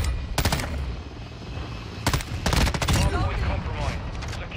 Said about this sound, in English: There goes a javelin.